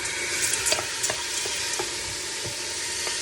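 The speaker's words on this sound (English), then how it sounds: "This had a little water left in it, which is fine. That's why you hear that sizzle." Mung beans and quinoa sizzle in a pan that still holds a little leftover water. The frying hiss is continuous and close, with soft crackles and stirring scrapes, and nobody speaks.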